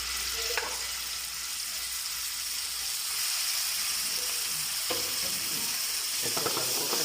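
Chicken frying in a pan as chili sauce is stirred in for chili chicken, a steady close sizzle with a few clinks of a spoon against the pan toward the end.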